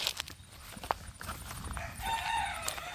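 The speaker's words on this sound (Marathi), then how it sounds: "ही कॉक कॉक कॉक कॉक करते" A hen clucks in short bursts amid farmyard noise, with scattered pecking and faint background chatter of birds.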